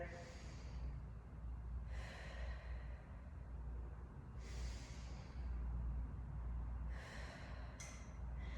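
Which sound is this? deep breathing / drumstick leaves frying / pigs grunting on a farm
deep breathing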